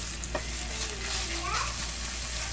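Shredded boiled chicken frying in a pan, giving a steady broadband sizzle with a brief clink, while faint background voices and a tonal murmur sit underneath.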